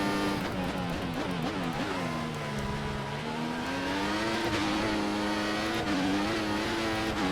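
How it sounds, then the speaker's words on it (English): In the F1 2014 racing video game, a Formula 1 car's engine revs and wails during qualifying at the Austrian circuit, its pitch rising and dipping as the wheels spin, loud and continuous with no talking. "Lots of wheel spin."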